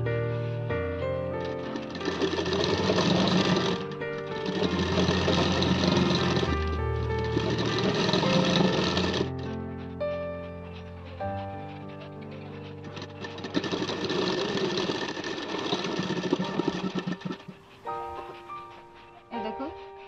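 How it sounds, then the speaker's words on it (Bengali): Sewing machine stitching old denim jeans into a baby skirt, running in long steady bursts broken by short pauses, with a tonal whir, close by and fairly loud, with music-like tones running alongside. "এইভাবে আমি সেলাই দিয়ে নেব সমস্তটা।"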